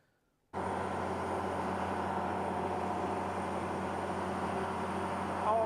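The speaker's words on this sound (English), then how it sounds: "You can hear the generator roaring in the background." A generator in Tallahassee during Hurricane Helene kicks in abruptly with a steady, loud mechanical roar and drones on without a break, with no voices.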